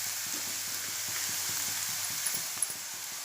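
Onions fry in a pan with dried kolim shrimp, giving a steady, close hiss and sizzle. Faint scrapes and taps of stirring come through underneath, and no one talks.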